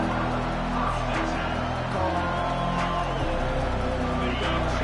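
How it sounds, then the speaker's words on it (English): Stadium crowd noise from the NCAA 25 college football video game forms a continuous, even roar with a faint tonal band underneath, steady and moderately loud. "This crowd going to try to make life miserable for these guys."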